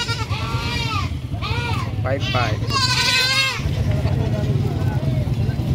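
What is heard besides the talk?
goats bleating at a livestock market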